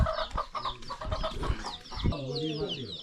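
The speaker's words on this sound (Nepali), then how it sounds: "पुरा कुखुराहरू पनि रहेछ हो" Chickens cluck and call repeatedly in a village, close and fairly busy, with some background voices mixed in.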